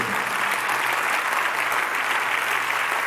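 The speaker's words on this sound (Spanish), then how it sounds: "Denle un fuerte aplauso al Rey de Reyes." A church congregation breaks into strong, sustained applause during a Spanish-language service, a dense continuous roar of many hands clapping at a steady level, with no voices rising above it.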